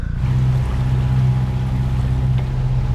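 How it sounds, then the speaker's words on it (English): A sailboat's engine drones steadily while motoring in near-zero wind off the Cyclades in Greece, a loud, even low rumble with a constant hum that runs throughout without speech. "So, as always, we have to use the engine."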